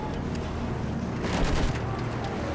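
Machine gun fire from a mounted weapon on a tank in Battlefield 1 multiplayer, dense rattling bursts buried in a thick wash of battlefield rumble and distant explosions, with one sharper, louder blast in the middle.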